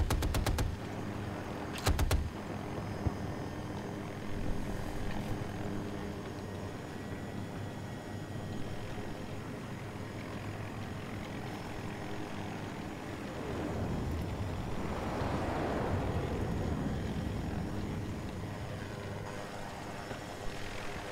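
Attack helicopter flying in the video game Battlefield 2042, a steady rotor and engine drone sustained throughout, with a couple of sharp gunfire bursts near the start and no talk.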